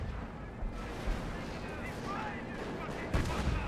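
Artillery barrage in Company of Heroes, a World War II strategy game, with a steady rumbling bed of distant shell bursts and gunfire and a heavier impact near the end, under a commentator's voice.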